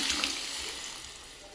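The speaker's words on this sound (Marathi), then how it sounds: "आता आपण गरम पाणी घातलं आहे त्याच्यात" Hot water poured into soya pulao in a cooking pot, a soft, steady rushing pour with light splashing that fades slightly toward the end, quiet and without talk.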